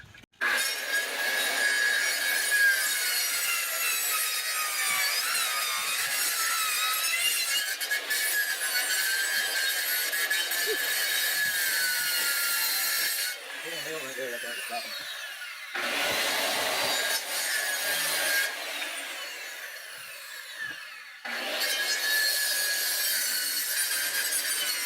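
A jigsaw cuts through wood for a traditional house build, a loud continuous buzzing rasp that runs steadily with brief pauses and dips in pitch, close up and without speech.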